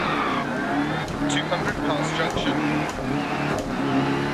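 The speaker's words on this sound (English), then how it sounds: "honestly, this Subaru sounds like a pig." A Subaru rally car engine in the video game DiRT Rally revs and drones with gear changes and a raspy buzzing tone, while a co-driver calls out pace notes over it.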